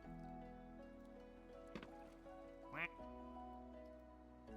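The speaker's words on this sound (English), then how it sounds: "Some duck was making noise." A single brief duck quack sounds once over a steady low hum, near and fairly clear, with a voice talking around it.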